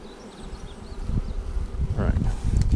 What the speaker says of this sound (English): I'm going to shake the bees into their new home.